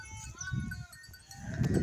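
Sheep bleat at the pen in the evening, a few wavering calls in sequence, fairly quiet and close, with low rustling and shuffling from the flock underneath.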